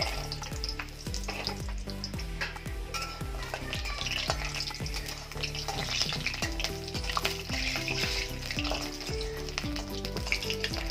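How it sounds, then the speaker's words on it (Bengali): Bori lentil dumplings frying in hot oil in a kadai, a steady close sizzle with repeated clinks and scrapes of a spatula stirring against the pan. "तेल गरम हये गेछे, बड़िगुलो भेजे नेब"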